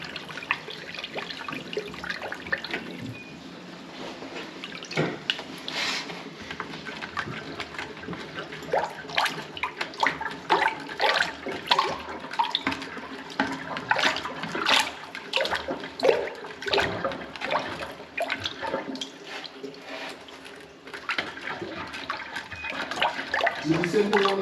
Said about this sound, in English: I just flushed it and it went out there.